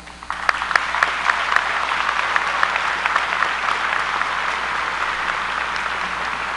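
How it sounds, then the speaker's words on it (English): An audience at a 2013 high school graduation ceremony breaks into warm, steady applause for the salutatorian's parents, crisp clapping that starts abruptly and holds at an even level. "Please give them a round of applause."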